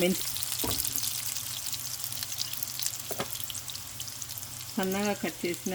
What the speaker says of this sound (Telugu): మెంతి కూర తరుగు ఇది ఆయిల్లో మంచిగా ఫ్రై కావాలి